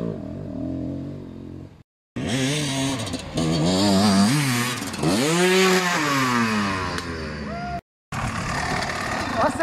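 A Gas Gas EC 300 enduro two-stroke motorcycle revs hard while riding off-road, its loud, buzzing engine pitch repeatedly rising and falling through gear changes, with two brief gaps where the sound drops out.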